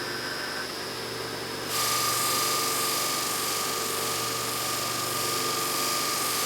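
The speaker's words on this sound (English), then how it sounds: "I set it to a little bit slower speed because I have very large diameter wheels on the buffer" A polishing buffer fitted with large-diameter wheels, one loaded with coarse rouge, runs at a reduced speed set through a VFD. It gives a steady broadband whir with a constant tonal hum, and grows louder partway through as it spools up.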